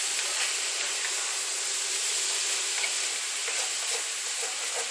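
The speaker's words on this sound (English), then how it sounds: "we're just going to fry that up" Ground sloppy joe meat seasoned with salt sizzles and hisses steadily in a hot skillet, a loud, close, continuous frying crackle with no talking.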